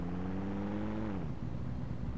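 A sports car engine in a driving simulator game revs high and steady, then its pitch drops sharply as the throttle eases off, leaving a lower rumble close by.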